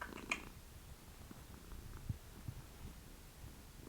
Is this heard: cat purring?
yes